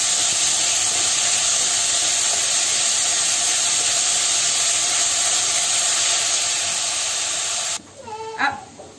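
Ground onion paste sizzling and roasting in hot oil in a pan for a Marwadi sev tamatar curry, a loud steady hiss that runs alone, then suddenly drops away near the end leaving a few soft clinks.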